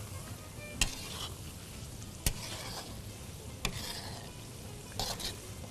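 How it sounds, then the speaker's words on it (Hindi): Chopped keema karahi is stirred and roasted in a pan under a continuous soft sizzle, with a few distinct scraping knocks of the spoon against the pan at intervals, fairly quiet and close. "बस अब भुनाई भुनाई है और कुछ नहीं है।"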